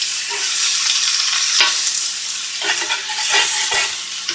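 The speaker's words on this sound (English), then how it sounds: "So I have my trusty spatula and my wooden spoon, and I'm just gonna move this stuff around." A spatula and wooden spoon stirring fish and vegetables in a skillet, a loud close sizzle with several distinct scraping and clacking strokes toward the end, no voices.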